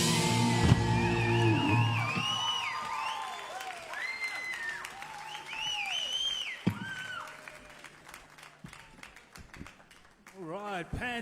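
Audience clapping and cheering after a youth rock band's semi-final set, a spread of handclaps that thins out under loud overlapping voices.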